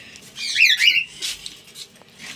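Australian parrots kept in a cage let out several shrill, high squawks and squeaky calls at close range, in short irregular bursts over faint background noise.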